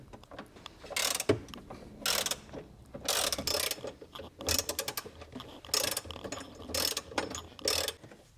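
A ratchet clicks in repeated bursts, each a quick run of pawl clicks, as screws come out during a battery replacement on a BMW G20 330i. The bursts are close and alone, with short pauses between them.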